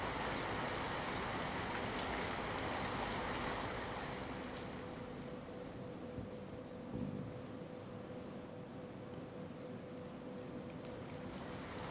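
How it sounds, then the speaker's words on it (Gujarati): Heavy downpour in Vavera village near Rajula, Amreli, a dense, continuous roar of rain with no voices, loud at first and easing slightly to a steady hiss. "રાજુલાના વાવેરામાં મુશળધાર વરસાદ વરસ્યો છે"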